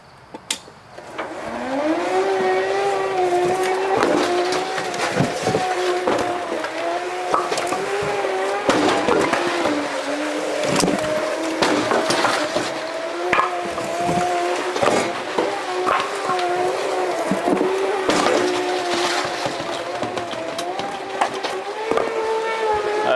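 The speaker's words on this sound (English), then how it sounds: "There we go, from livestock loader to firewood conveyor." A homemade conveyor built from an IBC tote and a livestock loader runs for firewood, giving a loud, steady mechanical whine with rising tones, overlaid by frequent knocks and clatters, close by with no talk.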